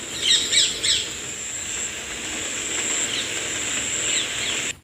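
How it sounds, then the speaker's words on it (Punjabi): Several shrill, squawky parrot calls in quick succession near the start, then a steady high insect-like hum and faint chirps for the rest. "ਪੰਛੀ ਬੋਲਦੇ ਨੇ ਪੰਛੀ"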